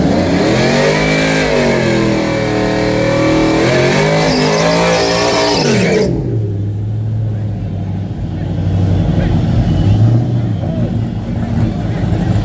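Trucks revving and accelerating hard in a drag race at the Yello Belly Dragstrip, a loud engine roar rising in pitch that cuts off sharply, followed by lower rumbling and more revving, with people talking nearby.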